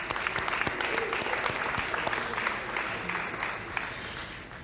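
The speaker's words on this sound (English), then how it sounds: "So a round of applause for our judges" Audience applause for the judges at a 2024 creative pitch competition, steady dense clapping throughout, loud and sustained with no voices over it.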